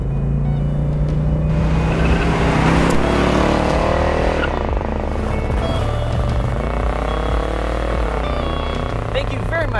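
1971 Oldsmobile 442 convertible with a big-block engine, revving hard and loud up close, rising and falling through the gears as it accelerates, a deep continuous roar.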